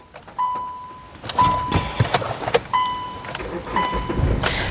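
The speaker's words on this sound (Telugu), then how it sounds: "సింగిల్ సెల్ఫ్లో కార్ స్టార్ట్ అయితే ఎటువంటి స్టార్టింగ్ ట్రబుల్ అయితే లేదు" A 2017 Hyundai Creta SX is started with its key, with clicks and jingling before the engine cranks and fires, then settles into a steady, close idle.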